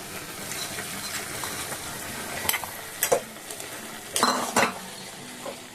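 Poppy seed and green chili paste being stirred in a pan with drumsticks, with a soft sizzle underneath and a handful of sharp metal spoon scrapes and clinks against the pan.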